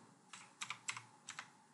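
A few quiet, quick keystrokes on a computer keyboard typing a short Windows 10 search, with soft separate clicks in small bursts and no talking.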